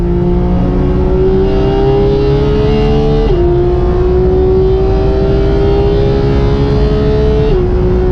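A Porsche 991 GT3 flat-six engine at high revs, loud and continuous from inside the car while chasing another GT3, pitch climbing steadily through the gears with two brief dips at upshifts.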